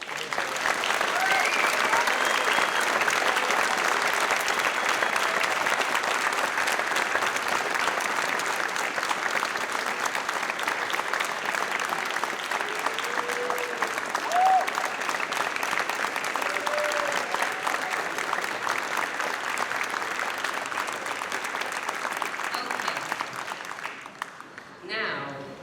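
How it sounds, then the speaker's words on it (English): An audience at a National Honor Society and National Technical Honor Society induction ceremony applauds for about twenty-five seconds, the dense, even clapping filling the room before tapering off at the very end. "Let's have a round of applause."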